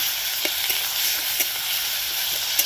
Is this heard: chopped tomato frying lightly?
yes